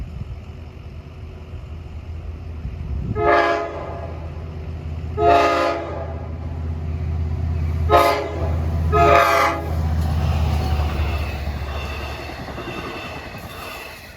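Train 40 with engine 415 rumbles steadily past at Babylon while its horn sounds four times, two long blasts then two more closer together, loud and nearby.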